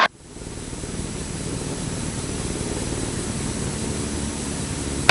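Sling ULS aircraft engine idling steadily at 2,000 RPM, a continuous loud low drone with a constant tonal hum that holds level throughout.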